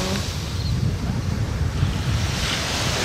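Wind gusts at an ocean beach, a loud, continuous rumbling roar buffeting the microphone with surf underneath, no voices.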